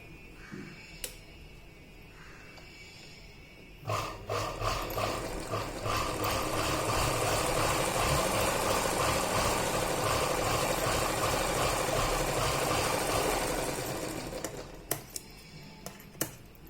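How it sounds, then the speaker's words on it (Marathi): A sewing machine runs a steady, close, rapid mechanical chatter for about ten seconds as it stitches a fabric sleeve, starting and stopping abruptly, with a few isolated clicks before and after. "आता आपण हा कपडा आहे ना समोरच्या बाजूला करायचा आहे आणि ह्या कपड्यावरती आपल्याला दाब शिलाई मारायची"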